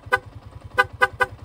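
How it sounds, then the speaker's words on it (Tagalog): A car's stock horn beeps once, then a PIAA loud horn blasts three quick toots, close and sharp over a low idling engine hum. "Ayan, stock horn and then yung loud horn nya."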